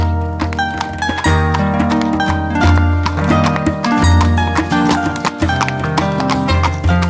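Horse hooves clip-clop at a steady pace, with a neigh, in a fairy-tale scene of a prince riding toward a giant's garden, all set loudly against continuous background music.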